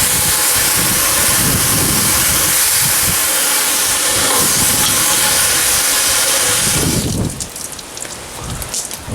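Water runs steadily over a soaking part from a Hammarlund HQ-129X radio being restored, a loud continuous splashing hiss that cuts off near the end, leaving quieter drips and handling.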